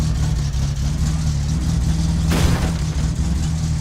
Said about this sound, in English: we were backfiring a little bit. I think we were revving a little too high